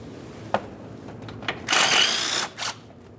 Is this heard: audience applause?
no